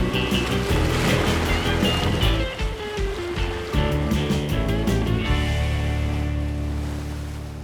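Ocean waves breaking at a surf break, a continuous loud rushing wash of surf with surging swells that slowly eases toward the end.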